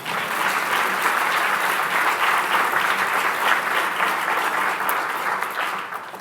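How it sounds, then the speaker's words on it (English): Sustained applause from a gala audience, dense steady clapping at full volume throughout, tapering slightly at the very end. "That you can applaud to."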